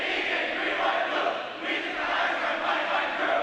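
Spectators at an Eagan versus Rosemount boys swim and dive meet cheer in a loud, sustained roar that dips briefly and then swells again, echoing like an indoor pool hall.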